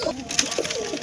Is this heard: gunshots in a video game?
no